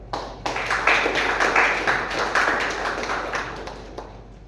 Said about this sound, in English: Please give a big applause for welcoming Toastmaster Abhirami Ayyathrai.